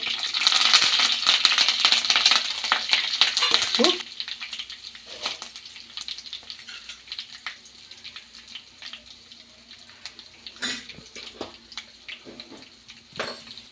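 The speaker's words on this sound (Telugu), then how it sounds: "ఆవాలు వేసుకుందాము మిరపకాయలు కరివేపాకు" Mustard seeds, chillies and curry leaves hit hot oil for a raw papaya curry, giving a loud, crackling sizzle that dies down after a few seconds to a quieter spitting with scattered clinks and pops.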